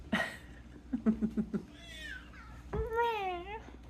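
A cat meows twice, a short high call and then a longer rising-falling meow, close by, alongside a woman's brief speech.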